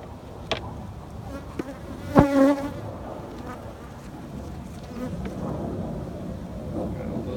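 Honey bees buzz around a hive in a steady, close insect drone, with a few sharp knocks and thumps standing out above the hum.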